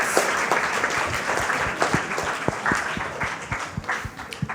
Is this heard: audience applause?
yes